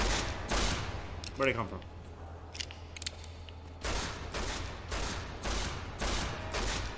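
Bursts of gunfire in Fallout New Vegas, played in Survival Mode at Cottonwood Cove: rapid volleys and single shots repeating loud and close, with a short question spoken partway through.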